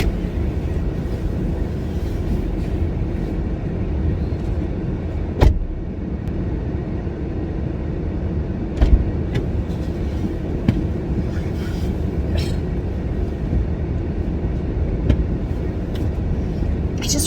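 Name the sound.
car engine left running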